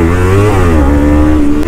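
A motorcycle engine revs hard and loud, its pitch climbing, then briefly dipping and settling as the bike shifts up into second gear before pulling again steadily.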